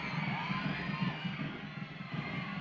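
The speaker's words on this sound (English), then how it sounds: "The crowd cheering on the Roses once again in the attacking third." Stadium crowd at a Northern Super League soccer match at Stade Boreal, Montreal Roses FC against Calgary Wild FC, a steady roar of cheering and shouting with a rhythmic drum beat pulsing underneath, sustained throughout.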